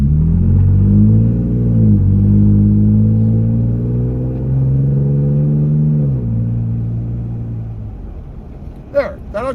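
A Toyota Tacoma pickup with an aftermarket dual exhaust rumbles loudly and steadily close by as it rolls over large speed bumps, its deep drone dipping and swelling with the throttle, then a brief clatter near the end.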